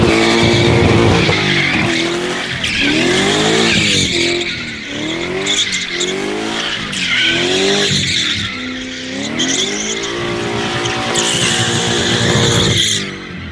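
Tires screech and skid continuously as a BMW 6 Series spins in repeated donuts, the engine revving in waves, loud and close throughout.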